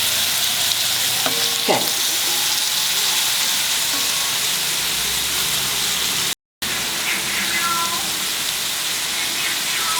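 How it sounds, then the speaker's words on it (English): Grated carrot, about half a kilogram, fries in ghee with a steady broad sizzle and hiss throughout, and a short stirring scrape is heard near the start. The sizzle cuts out for a moment midway, then continues. "now I will fry it in this ghee"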